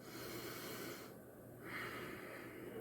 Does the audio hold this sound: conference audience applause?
no